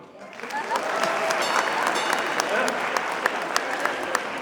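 An audience at a Durga Puja stage show with a singer claps, the applause swelling quickly and then holding as a dense, steady roar with sharper single claps, while a voice talks over it.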